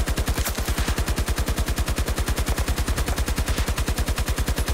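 Rapid, steady automatic fire from the RPT-31 light machine gun in the video game Battlefield 2042, a long unbroken burst of evenly spaced loud shots with no talk over it.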